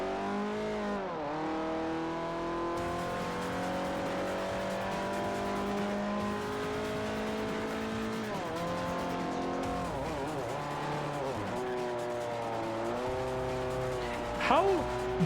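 Racing car engine in Forza Motorsport 4 holds a steady high drone that rises and falls through gear changes, with a brief tire squeal near the end and someone talking over it throughout.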